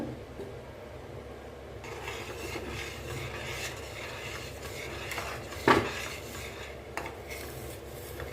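Mysore pak mixture slowly stirred in a pan, a soft continuous scraping and low rumble with a single sharper clink of utensil on metal near the end.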